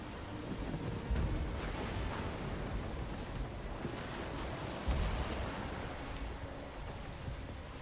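A sailing ship ploughs through rough ocean waves in the Skull and Bones naval game, with a steady rush of surf and wind washing around the hull and occasional heavier surges, no talk.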